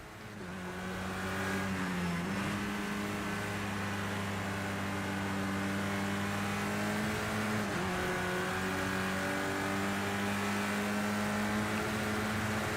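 Steady engine drone of a BMW touring car in the Project Cars 2 racing game, a sustained harmonic tone with brief dips as the revs shift, continuous and fairly loud throughout with no talking.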